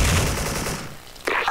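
AK rifle fire in a first-person shooter game, a short rapid burst of loud gunshots followed by a brief pause and another sharp shot.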